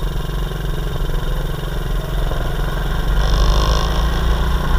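A quad bike's small engine drones steadily and loud, its pitch and volume rising slightly toward the end as it gathers speed at constant throttle.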